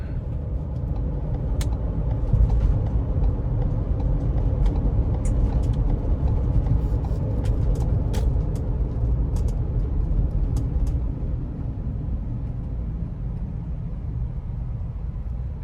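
Steady low road rumble from a 2015 Ford Transit-150 conversion van on the move, a smooth continuous drone with scattered light clicks and rattles throughout.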